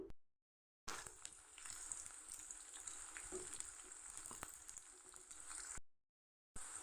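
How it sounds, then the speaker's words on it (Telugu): Oil sizzles and crackles steadily as cauliflower deep-fries close by, with small pops over a constant hiss, briefly cut by silent gaps. "ఇప్పుడు డీప్ ఫ్రై చేస్తాను."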